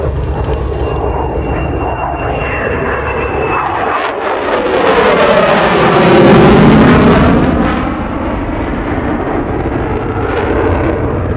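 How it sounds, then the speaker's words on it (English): An F/A-18F Super Hornet roars past at an airshow with afterburners lit, a loud, rumbling jet blast that swells to a peak mid-pass and then eases off but keeps thundering. "with afterburners clawing their way out of that high Alpha Pass"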